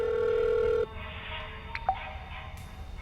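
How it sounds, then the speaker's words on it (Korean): A mobile phone ringtone: one steady electronic tone sounds loud for under a second, then cuts off, leaving quiet room hiss and a couple of small clicks. "벨소리가 점점 더 크게 들리는 쪽으로 걸음을 옮겼어요"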